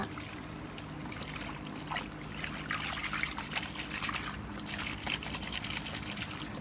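Water trickles steadily over white clothes soaking in laundry detergent in a basin, a soft continuous pouring wash with small splashy surges, fairly quiet and without voices.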